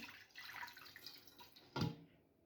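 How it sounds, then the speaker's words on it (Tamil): Water is poured, running and trickling quietly in the background into fish bun ingredients with sugar, with a brief louder splash near the end. "கொஞ்சம் தண்ணியை விட்டு."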